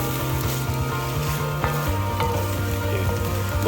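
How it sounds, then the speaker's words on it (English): Ingredients being mixed with butter in a hot pan alongside cooked rice, a steady loud sizzle with occasional scrapes and clicks of a utensil, close and uninterrupted by talk. "now we're gonna mix all this up with the butter"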